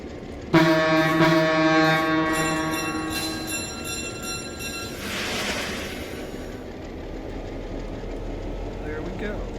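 Diesel locomotive in a video game starting with a loud, tonal horn-like blast that fades over several seconds into a steady low engine rumble.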